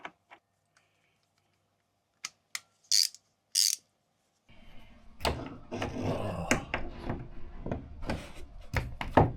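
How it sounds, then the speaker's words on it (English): A ratcheting socket screwdriver turning a screw, a few sparse clicks at first, then a dense run of close, rapid ratchet ticks. "I think I've got kind of a socket screwdriver thing"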